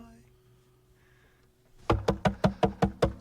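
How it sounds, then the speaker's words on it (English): Knocking on a door, set within a song, comes in as a run of about eight loud, evenly spaced thuds after a quiet, sparse musical passage. "is that him knocking on a door?"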